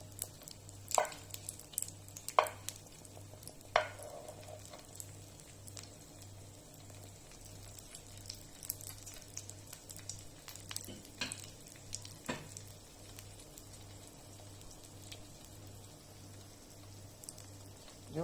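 Potatoes frying gently in a pan over low heat, giving a soft, steady sizzle with scattered small pops and crackles, fairly quiet throughout with a faint hum underneath.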